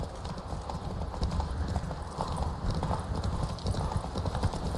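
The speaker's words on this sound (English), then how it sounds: "Run, Roach." Horse hooves gallop in The Witcher 3: Wild Hunt, a steady rapid clip-clop that runs unbroken and close over a dense game soundscape, with a brief whinny mixed in.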